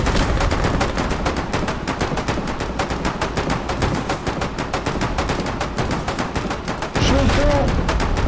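Rapid gunfire from a war video game, dense automatic bursts crackling nonstop and loud throughout, with a player's voice briefly heard near the end.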